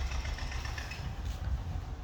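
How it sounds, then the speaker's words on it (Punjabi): A small household generator engine runs steadily nearby, a continuous low chugging hum with no breaks and no voices. "ਛੋਟਾ ਜਨਰੇਟਰ ਹੈ"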